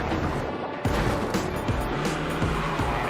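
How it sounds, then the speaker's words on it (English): Modified four-wheel drive vehicles race over rough safari-style terrain at a course in Broadbottom, England, with steady engine roar and rumble throughout and occasional surges as a car passes nearby. "Drivers compete for the fastest time in modified four-wheel drive vehicles on a course that mirrors wild terrain typically found on a safari."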